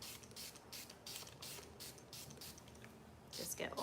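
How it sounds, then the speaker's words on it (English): A spray bottle mists hair in a series of short, soft hissing bursts at a steady rhythm, fairly close and quiet, with a longer burst at the end. "let me just spray all of these"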